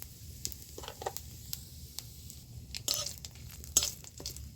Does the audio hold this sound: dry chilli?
yes